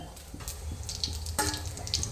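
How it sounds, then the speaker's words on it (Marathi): Water bubbles and splashes in a cooking pot at a boil, with soft gurgles and small pops near at hand, faint and without voices. "गंजामध्ये पाणी उकळत आहे"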